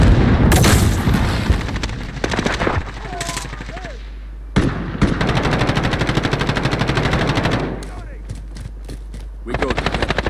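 Loud bursts of rapid gunfire and booming impacts in Call of Duty: Modern Warfare, with stretches of fast machine-gun rattle broken by brief pauses, and a voice calling out over the fighting.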